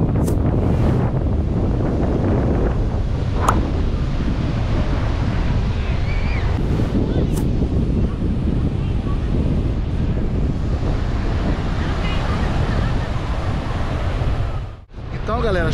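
Waves roll onto a beach at Marudá with strong wind buffeting the microphone, a continuous loud roar of surf and gusts, briefly interrupted near the end.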